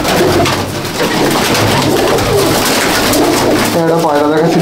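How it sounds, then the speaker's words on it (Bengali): Madrasi pigeons of an old breed coo in a loud, dense flock at a sale in Bauria, Howrah, with mixed chatter and bird calls throughout and a clearer rolling coo near the end. "একটা পায়রা দেখাচ্ছি, দেখুন এটা আমার চোখ ফাটা লাইনের পায়রা।"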